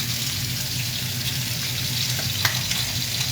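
Vegetables stir-fry in oil in a pan for a simple Asian breakfast, giving a dense, continuous hiss and sizzle up close, with faint clatter near the end.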